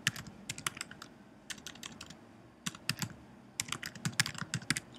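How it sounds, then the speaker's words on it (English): Typing on a computer keyboard while entering an email address, with quick bursts of clicking keystrokes in clusters separated by short pauses, close and fairly quiet. "you're basically going to type in your email"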